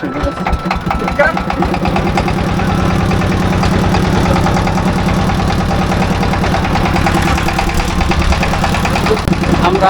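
A speed boat engine runs steadily at a constant drone throughout, loud and close, with a rapid mechanical pulsing and some voices faintly under it.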